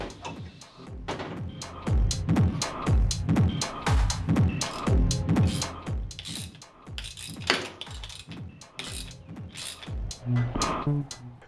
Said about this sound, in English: you can use a ratchet to get the bolt all the way in and remove it from the vise